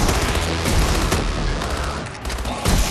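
Dense, continuous gunfire from the Call of Duty Advanced Warfare Exo-Zombies mode, loud rapid shots overlapping into a steady barrage throughout.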